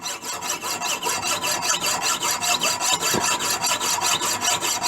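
A small clock screw head held for slotting, with rapid, steady back-and-forth saw strokes rasping through the metal, close and continuous for the whole stretch with no talk.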